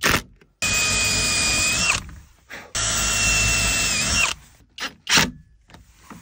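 A power drill bores a 3/8-inch hole through a square plastic bracket while a shed lock is installed: two loud whining bursts of over a second each, then a few short clicks and handling knocks up close.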